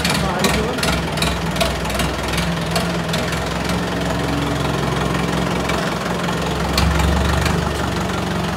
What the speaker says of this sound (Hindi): तो भाई ट्रैक्टर स्टार्ट होगा अपना